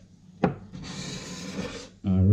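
A hand tool takes shavings off an oak window sill in one long rasping scrape, preceded by a sharp knock, with a voice breaking in right after.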